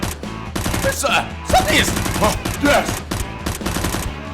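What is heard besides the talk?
Nerf blaster firing repeatedly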